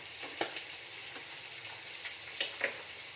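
Chicken frying in oil while being stirred slowly, a soft, steady sizzle with a few distinct scrapes and clinks from the stirring utensil, fairly quiet and close.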